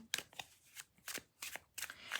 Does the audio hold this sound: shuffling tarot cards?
yes